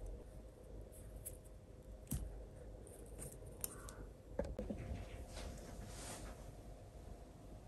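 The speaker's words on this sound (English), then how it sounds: "So I'll just cut them with the snips." Snips cutting bonsai wire off Pinus mugo pine branches: a few faint, sharp clicks spaced a second or two apart over a quiet, hissy background.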